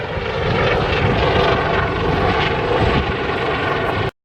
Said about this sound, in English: There goes another chopper.